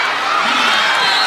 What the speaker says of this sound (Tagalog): Malakas ang sigawan dito.